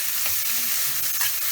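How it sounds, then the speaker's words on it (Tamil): Two medium-sized chopped onions sizzle in a hot pan for mushroom soup, a steady close frying hiss broken by occasional stirring scrapes. "2 மீடியம் சைஸ் அனியன்ஸை நான் வெட்டின வச்சதையும் போட்டு நல்லா வதக்கிட்டுருக்கேன்"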